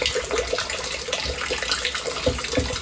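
Rainwater pours steadily into a repurposed olive barrel used as a rain barrel, a continuous close splashing gush with no talk.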